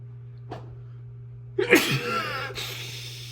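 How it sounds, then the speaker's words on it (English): A single close, sharp sneeze bursts out after a brief quiet intake, trailing off quickly over a low steady hum. "I'm about to sneeze."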